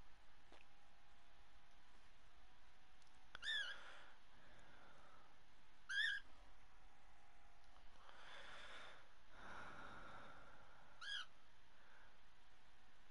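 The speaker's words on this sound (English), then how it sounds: "You hear my bird?" A pet bird indoors gives a few short, sharp chirping calls, spaced several seconds apart, fairly faint against a quiet room hiss with a soft whooshing noise in between.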